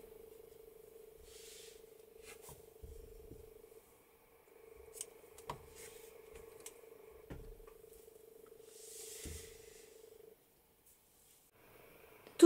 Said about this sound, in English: Make one chain and then cut the yarn.